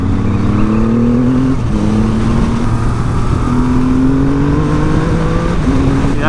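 A 2020 Triumph Rocket 3 motorcycle engine revs up and holds, its pitch climbing in repeated steady sweeps, loud and close with no talking.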